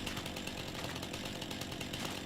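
A chainsaw revs steadily in Farming Simulator 25, a continuous buzzing, rasping drone that holds at even loudness from start to finish, close up with no other sounds.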